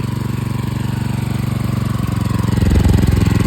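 A rebuilt motorcycle engine idles during break-in with a steady, loud, rhythmic chugging close by, its pulse quickening slightly as the idle is raised near the end, with no talk.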